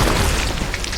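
A loud wartime grenade explosion effect from a World War II battle with Japanese soldiers: a heavy, sustained booming roar that fills the whole second with no break or voices.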